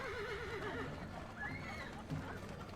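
A horse whinnies in a wavering, descending call with a shorter second neigh, under a bed of dramatic background music and ambient noise.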